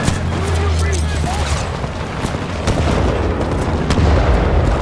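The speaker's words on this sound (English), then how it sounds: "Oh shit, grenade!" A grenade blast in Titanfall 2 lands amid a steady clatter of gunfire and booms, loud and close throughout, with voices talking under the din of the fight.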